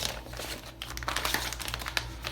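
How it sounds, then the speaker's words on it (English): A sealed, resealable plastic Ziploc bag of travel disinfecting wipes is handled, giving quiet, close crinkles and crackles in quick irregular bursts. "Comes in a sealed plastic resealable Ziploc baggie, sealed."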